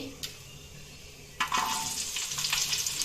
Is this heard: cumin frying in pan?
yes